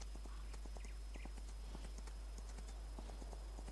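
Horse hooves clip-clopping in a steady walking rhythm while riding in Farming Simulator 19, quiet and fairly close, over a low constant hum.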